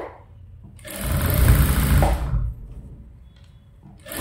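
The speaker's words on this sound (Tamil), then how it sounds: "இதுலேருந்து தையல் ஸ்டார்ட் பண்ணுவோம். 1/4 இன்ச்சில் அந்த ஆல்ரெடி சுற்றி தையல் போட்டிருக்கோம், அதே தையல் மேலே" A sewing machine runs in one steady whirring burst for about a second and a half while stitching a princess cut blouse, quiet handling before and after.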